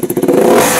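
Yamaha RS200 motorcycle fitted with a twisted elbow exhaust and a remapped engine, revving in a brief, loud, close burst with a pulsing throttle blip that settles into a sustained roar.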